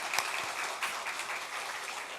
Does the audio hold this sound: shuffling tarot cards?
no